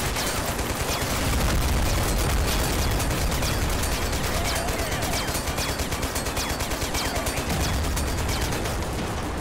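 Dense, continuous volleys of gunfire fill a Total Conflict Resistance battle, with rapid overlapping shots and distant booms forming a steady, loud barrage and no clear voices.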